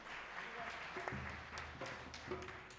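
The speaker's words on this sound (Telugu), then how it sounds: "స్వర్ణకుమార్ అయ్య గారికి అందరం గట్టిగా చప్పట్లు కొడదామా?" Guests clap together at a first birthday celebration, a steady wash of hand claps with low music or crowd murmur underneath, lasting the whole moment.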